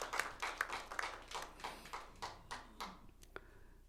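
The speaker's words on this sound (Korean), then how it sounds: "우리 박수로 우리 환영하십시다" A church congregation at a Sunday service claps in welcome, giving a steady run of many hands clapping together in a roomy hall that tapers off after a few seconds, with no talking.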